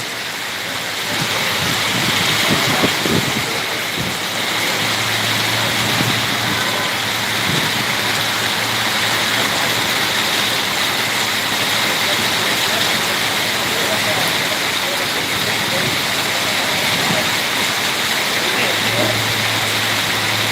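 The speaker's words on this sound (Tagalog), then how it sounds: "Lakas ng ulan, oh, sobrang lakas." Heavy rain pours down in a dense, continuous roar of water hitting surfaces, loud and steady throughout.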